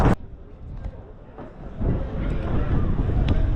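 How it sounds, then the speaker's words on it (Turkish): Steady low rumbling wind buffeting a microphone at Göbekli Tepe, continuous and broadband, swelling stronger in the second half. "çok rüzgar olduğu için sesim biraz gelmeyebilir"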